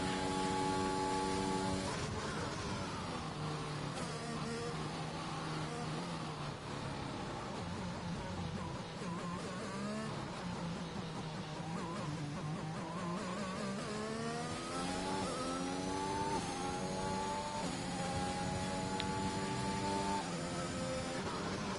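Race car engine on a qualifying lap of the Chinese Grand Prix in a racing video game, on medium tires, heard onboard as a steady loud drone that rises and falls through gear changes, alone with no talk.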